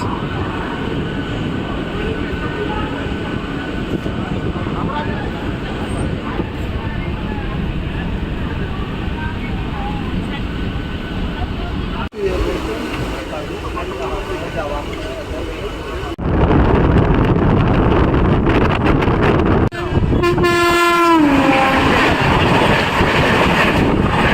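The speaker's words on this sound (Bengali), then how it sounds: "বন্দে ভারত ক্রস করছে" A Vande Bharat express train crosses past a local train on the Jhargram to Digha route. A steady rail rumble swells into a loud, close passing roar, and a blaring horn sounds with a falling pitch near the end.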